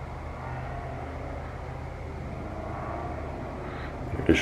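Distant traffic outdoors at night makes a steady, low, continuous rumble, faint and far off, with no voices present.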